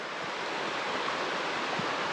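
A woodland creek flows near a hiking trail among rhododendrons, producing a continuous broadband rush of water at steady volume with no voices.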